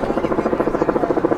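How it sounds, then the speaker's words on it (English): A helicopter flies overhead, its rotor thumping in a fast regular pulse that sounds loud and fairly close, with no speech. "You don't hear that helicopter. I know y'all hear that."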